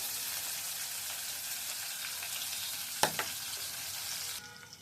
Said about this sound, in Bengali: সবকিছু একসাথে তেলে ছেড়ে দিলাম, তো ভাজা হয়ে যায়